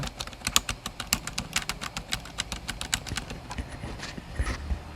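Rapid muted key presses on a keyboard with Outemu Silent Peach switches patter in an irregular stream, soft and close, with no voices.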